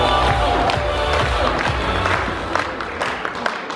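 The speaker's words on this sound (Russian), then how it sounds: "под ваши аплодисменты" Audience applause at a civic cultural event, a burst of crowd clapping and cheering that is strong at first and then thins out, with a few louder individual claps near the end.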